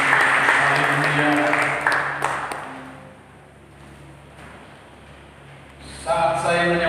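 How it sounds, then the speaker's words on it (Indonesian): A church congregation claps during a worship service, loud dense applause that fades into a quiet lull before swelling again, with a voice rising over the clapping near the end. "Mari kita berikan tepuk tangan yang meriah bagi Tuhan Yesus"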